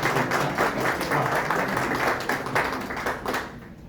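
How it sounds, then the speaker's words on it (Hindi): Audience applause at a grand Urdu literary evening in Doha, Qatar: a dense, steady wash of clapping from a crowd that fades out toward the end, with no one speaking over it. "ढेर सारी तालियों में जनाब मोहतरमा निमरा"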